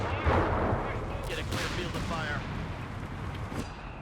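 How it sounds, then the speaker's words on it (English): Artillery fire rumbles through a Company of Heroes 3 multiplayer match, dull booming impacts and crackling blasts rolling under a commentator's voice. "I thought there was some more artillery coming down"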